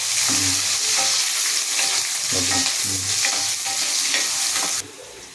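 Onions and green chillies fry in hot oil with mustard seeds, giving a loud, continuous sizzle broken by a few stirring scrapes before the sound suddenly drops away.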